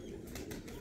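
Khana wale kabootar, a pet pigeon breed, give a faint, muffled stir of soft wing flutters and low murmuring throughout a brief moment, with no voices.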